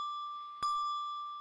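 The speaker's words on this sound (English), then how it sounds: "It's also possible to make them ring with very small jerky movements like this." Electronic handbell (eBell) set ringing by a tiny jerky movement: one sudden bright strike with a clear sustained tone and shimmering overtones that slowly decays, close and alone.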